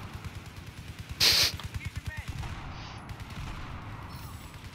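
Gunfire in Battlefield 4 comes as a rapid, steady stream of automatic shots, close and rhythmic, with one sharp louder burst about a second in. The firing keeps going throughout.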